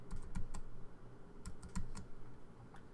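Fingers typing a class ID on a computer keyboard, with short clusters of crisp key clicks spaced unevenly over a low background hum and no voices.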